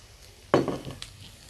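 A metal utensil scrapes and clatters in a pan as beef is stir-fried over high heat with two colors of capsicum, cubed tomato and chopped mushroom, one sharp clank followed by a short rattle and a lighter tap.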